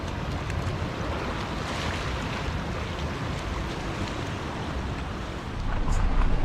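Floodwater lapping and rushing under a bridge in rain-swollen hill country, a steady broadband wash with wind noise on the microphone, swelling slightly louder near the end.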